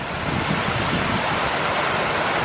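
Rough sea surf and gusting wind around small fishing boats out after tuna off the Bình Định coast, a steady, loud, full-bodied rush of waves and wind filling the whole stretch with no voices.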